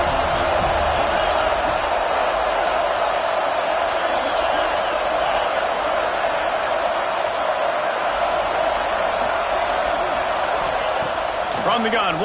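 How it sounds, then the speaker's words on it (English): A large crowd in a college football stadium roars continuously and loudly as the defense lines up on third down, a dense sustained wall of noise. "Decibels rising as the crowd gets behind this defense on 3rd down."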